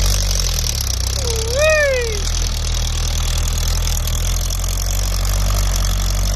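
Kubota L4708 tractor diesel engine idling with a steady low knocking rumble, close by, while a brief rising and falling whistle-like tone sounds over it near the start.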